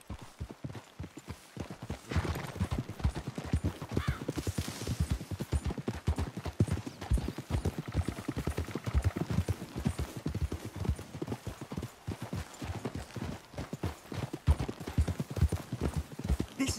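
Horses gallop in the video game Red Dead Redemption 2, a continuous fast clip-clop of hooves with an occasional whinny, fairly close and steady over a faint background.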